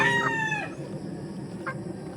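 Yellow leg hatch gamecock crowing close by, one short strained crow at the start followed by a brief faint cluck over quiet farmyard background.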